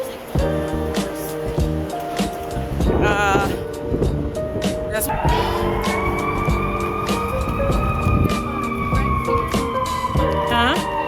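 Emergency vehicle sirens wail in a city street, with rising and falling tones sweeping loudly over traffic noise while people talk nearby.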